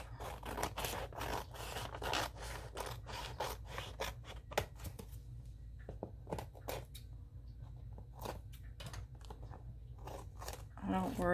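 Scissors snip and crunch through a paper collage page in a quick series of close, rapid cuts and rubbing scrapes, pausing briefly midway, with a voice talking faintly under the cutting.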